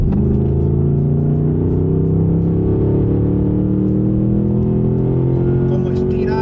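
A 2025 Ford Mustang GT V8 pulls hard under acceleration, a loud, deep engine drone rising steadily in pitch from inside the car, with a voice talking over it near the end.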